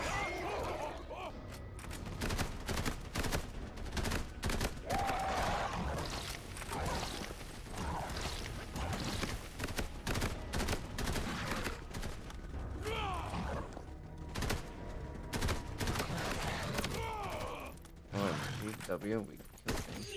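Rapid bursts of assault rifle fire in Borderlands Mobile, repeated sharp cracks in uneven clusters throughout, with a person talking over the shooting.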